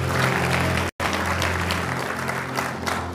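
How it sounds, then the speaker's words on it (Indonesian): A church congregation claps loudly together in sustained applause, with a momentary break near the start before the dense clapping resumes and carries on to the end. "Tepuk tangan buat Tuhan."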